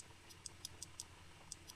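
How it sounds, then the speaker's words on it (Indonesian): A loudspeaker powered from a power supply gives faint, irregular ticking crackles, several quiet clicks spaced unevenly over a low steady hum. "Nanti dia akan bunyi kresek-kresek seperti itu."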